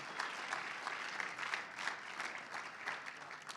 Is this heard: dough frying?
no